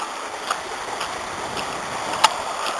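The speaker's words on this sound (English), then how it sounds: "now that's just a mere trickle" A mere trickle of water runs over a pebble beach along a shrunken stream bed near Llanbedr, a soft, continuous rushing hiss with a few faint splashes and clicks, no voices.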